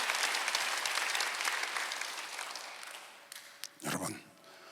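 A church congregation at a Sunday worship service bursts into applause, loud at first and gradually thinning out, then breaking off into a few scattered claps and brief sounds.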